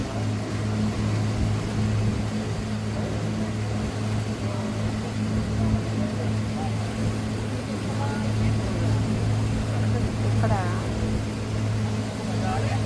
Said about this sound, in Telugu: ఈ పడవలో వెళ్తున్నాం